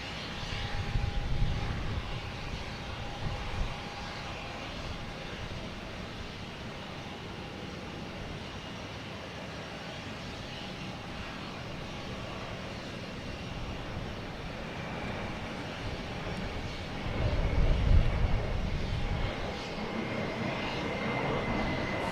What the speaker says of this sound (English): Next we have American Airlines heading to Philadelphia.